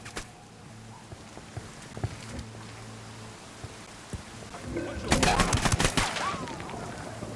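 Gunfire in the shooter game Ghost Recon Wildlands, a sharp burst of several close, loud shots that breaks out late over a quiet outdoor ambience with faint birds.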